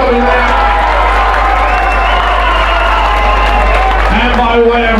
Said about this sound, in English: once again, a round of applause for both of our fighters